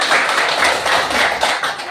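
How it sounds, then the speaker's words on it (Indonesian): Classroom students clap for a classmate, a loud, brisk burst of applause with a steady rapid patter throughout. "silakan tepuk tangan kepada kawannya"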